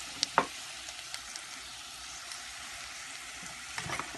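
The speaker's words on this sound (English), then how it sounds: "I'm going to give this a stir" A spiced vegetable chop mixture with coriander leaves and ground spices stirred in a pan, a soft continuous sizzle with a couple of brief scraping clicks at the start and near the end.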